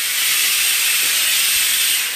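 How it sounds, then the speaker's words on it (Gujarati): A pressure cooker vents steam in a loud, continuous close hiss, steady and unbroken for the whole stretch, with no voices. "જો શિસ્તાટા થાય કુકરમાં"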